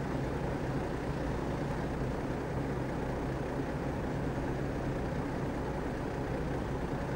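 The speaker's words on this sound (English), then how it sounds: "And the parking brake sounds nice, and the engine note changes, which is quite nice." A city bus engine idles in the OMSI 2 driving simulator, a steady low rumbling drone that stays constant throughout with no clear change or separate brake sound.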